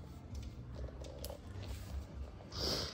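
A cat purrs softly and steadily up close, a low rumbling vibration that continues without pause.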